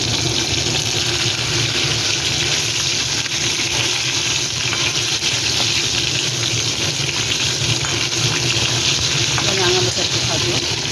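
Potatoes and pointed gourd frying in a pan make a continuous, dense sizzle that stays steady and close throughout, with a voice briefly audible underneath near the end.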